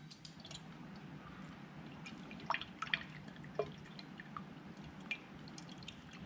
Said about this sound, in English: Firstly, I'll need to drain the fluid out of the radiator, so that will be this bolt here at the bottom of the water pump.